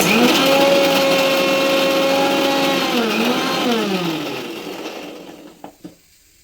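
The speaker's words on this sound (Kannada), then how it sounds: "ಸುಮ್ಮನೆ ನಾವು 1-2 ಸಲ ಮಿಕ್ಸಿನ ಟರ್ನ್ ಮಾಡಿದೆ" Electric mixer grinder coarsely grinding coconut, a loud whining motor hum that runs steadily, then winds down and fades out, followed by a couple of small clunks as it stops.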